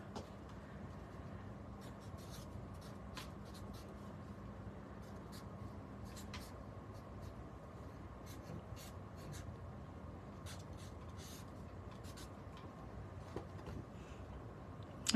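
A Sharpie marker writes on paper at a crafting table, making quiet, close, scratchy and squeaky strokes in short intermittent bursts over a faint steady background hum.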